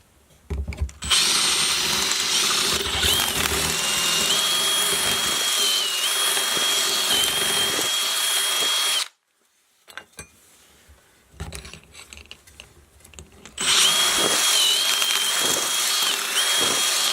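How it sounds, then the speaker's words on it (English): A power drill enlarging a hole in a Telecaster guitar body for a new volume pot whines continuously for several seconds, stops, a few handling clatters follow, then the drill starts up again, close and loud. "find a drill and drill up the hole a little bit"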